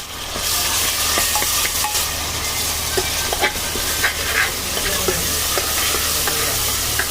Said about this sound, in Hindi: हम इस मसाले को भूनेंगे, लेकिन हम इस मसाले को बहुत ज़्यादा नहीं भूनेंगे